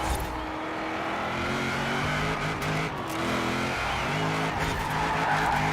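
HSV Gen-F GTS ute in Forza Horizon 4 sliding in oversteer, its engine droning steadily with tyre skid noise layered over it, loud and continuous throughout.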